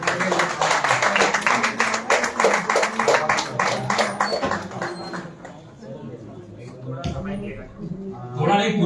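An audience at a literary festival in Chennai claps steadily for several seconds, the sound then trailing off into quieter murmuring and a voice at the end.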